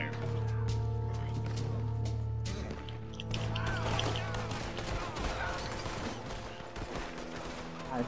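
Gunfire in a video game, rapid bursts of shots ringing out over a low engine drone, then denser crackling fire and clatter in the second half, with a voice speaking over it.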